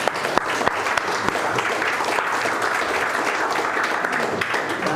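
An audience applauds steadily, a dense wash of clapping that holds level throughout without letting up.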